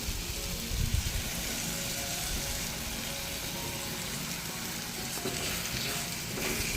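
Freshly ground gravy poured into a hot pan of sautéed aromatics for a pepper mackerel curry, giving a dense, continuous crackling sizzle with a brief bump of splatter near the start.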